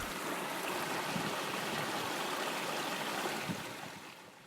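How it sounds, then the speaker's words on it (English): Waves at Barceloneta Beach wash in as a steady, broad roar of surf, continuous and fairly close with soft swells and a few louder surges, no voices. "Those are the waves of Barceloneta Beach."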